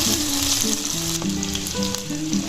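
Okra fries in hot oil with a steady, loud sizzle and faint spatters, while a low droning hum runs underneath; no one speaks.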